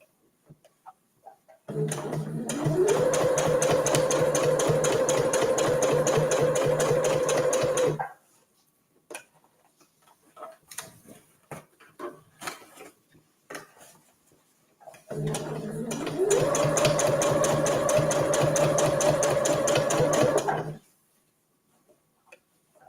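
Sewing machine stitching a lined reusable fabric gift bag, running in two steady, loud bursts of several seconds each, with quieter fabric handling and shuffling between them.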